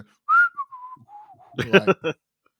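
A person whistles a short falling tune, clear and close, followed by a brief burst of speech.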